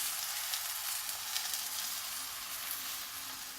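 An egg fries in a pan, giving a steady, close hiss of sizzling and bubbling oil that holds even from start to finish with no voices.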